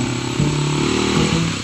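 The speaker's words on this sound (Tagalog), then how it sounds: "Matingali mga motor mo agi-agi diri." A motorcycle engine passes close by, a loud mid-pitched drone with revving pitch shifts and throttle surges, heard alone without talk.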